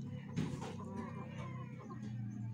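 A chicken clucks faintly in a rural provincial yard, a few soft, short calls over a low steady background hum.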